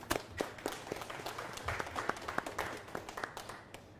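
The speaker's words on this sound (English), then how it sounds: "Big round of applause, please." Faint, scattered clapping from a small audience at an author interview event, uneven individual claps rising and falling over a few seconds.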